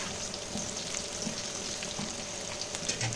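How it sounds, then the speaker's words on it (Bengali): Bitter gourd pieces frying in oil in a pan for shukto give a continuous soft crackling sizzle, steady and fairly faint, with no talking. "তো এটা যতক্ষণ ভাজা হবে মশলাটা আমি রেডি করে নিই।"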